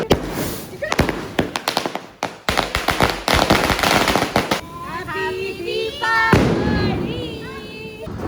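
Deepavali firecrackers burst in a rapid crackling string of sharp bangs and thuds, loud and close, over festive background noise, then give way to a whistling, fizzing tonal hiss of fireworks.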